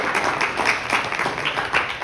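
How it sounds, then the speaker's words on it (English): An audience applauds at a Columbus Day gathering of the Lt. Detective Joseph Petrosino Association in New York City, producing a steady, dense wash of clapping that holds at an even level for about two seconds. "Let's hear a round of applause."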